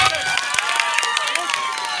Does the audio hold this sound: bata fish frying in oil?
no